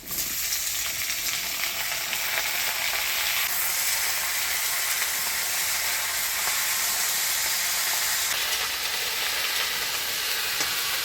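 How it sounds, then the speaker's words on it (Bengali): Cut vegetables hit hot oil with onion and black cumin in a pan, starting a loud, dense, continuous sizzle and hiss that stays steady throughout, with no talking. "এবার দিয়ে দিচ্ছি কাটে রাখা সবজি"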